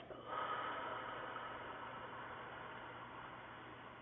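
A long, steady breath sound, a deep nasal inhale flowing into a slow exhale through pursed lips, airy and close with an even hiss that sustains for several seconds, alone without talk.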